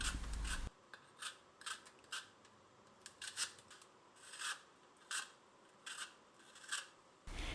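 Apples are peeled by hand in a quiet room, with a series of short scraping, rasping strokes that come in irregular bursts and are close and soft, with no talk.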